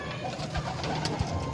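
A racing pigeon coos at a club loft, giving soft, throaty, repeated low coos close by, with faint rustling and background noise around them.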